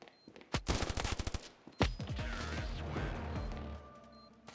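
Rapid bursts of automatic gunfire in the game Standoff 2, loud and close, followed by a lingering rumble and echoing clatter as the shooting stops when ammo runs out.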